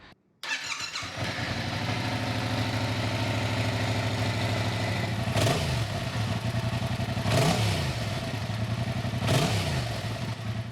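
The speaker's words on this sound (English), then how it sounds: "I'll put in a clip of the MT-07 stock exhaust" A Yamaha MT-07 motorcycle with stock exhaust idles with a deep, throbbing exhaust note, then revs sharply three times at roughly even intervals before settling back to idle.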